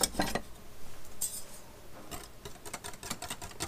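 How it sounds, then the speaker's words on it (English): A whisk clicks and scrapes against a 4-cup measuring cup while mixing coleslaw dressing, quick uneven rattling taps with a brief bright clink near the start. "I think I might use the whisk on this to try and mix that up a little better"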